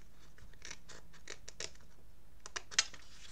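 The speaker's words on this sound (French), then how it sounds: "je coupe le long du trait formé par le pli et je le biseaute" Scissors snip through paper along a fold, bevelling the edge: a series of short, crisp cuts, quiet and close, with a few sharper snips near the end.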